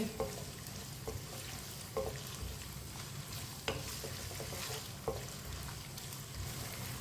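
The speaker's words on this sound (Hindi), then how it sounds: "आलूओं को भी 2-3 मिनट के लिए फ्राई कर लेंगे।" Cut potatoes fry in a pan for aloo bhindi, a faint continuous sizzle broken by a few soft clacks of stirring spaced a second or so apart, with no talking.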